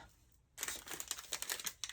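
Scissors cutting open a package, heard as close, busy crinkling and rustling of plastic packaging with snips and crackles in quick irregular bursts after a brief quiet start.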